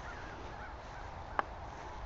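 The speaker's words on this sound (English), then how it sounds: "I hear some crows off in the distance." Two short, faint crow caws ring out far off along a wooded nature trail, one near the middle and one at the very end, over a quiet, steady outdoor hush.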